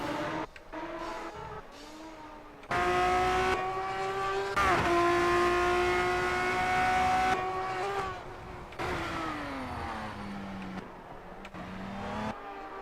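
Formula 3 race cars in a racing game, high-pitched engines revving and shifting gears with rising and falling tones, a car passing and brief tire squeal, loud and continuous with no speech.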